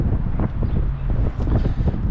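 Wind blows across the microphone on a cool, breezy day at the Hamburg Landungsbrücken waterfront, a loud, gusty rumble that swells and dips throughout.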